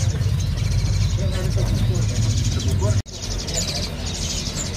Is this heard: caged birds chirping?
yes